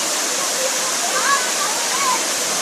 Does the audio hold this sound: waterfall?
yes